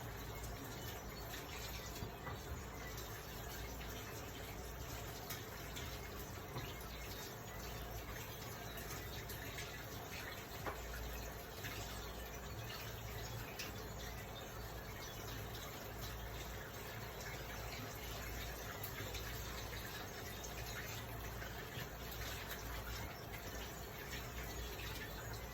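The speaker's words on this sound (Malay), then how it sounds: "Dan kita bersihkan ikan." Fish being rinsed under a running kitchen tap while preparing Melaka-style asam pedas: a faint, steady stream of water flows without a break for the whole stretch, with no talk.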